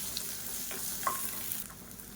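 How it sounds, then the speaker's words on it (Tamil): Onion and green chillies sauté in a pan for mint chutney, giving a soft, steady sizzle with a few light stirring scrapes, fairly quiet and with no talking. "வெங்காயம் பச்சை மிளகா நல்லா வதங்கிடுச்சு."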